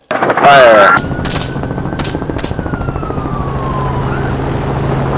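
A helicopter hog hunt opens with a loud burst of rapid gunfire, followed by the steady thumping drone of the helicopter's rotors and engine close by, with a rising and falling whine carrying through.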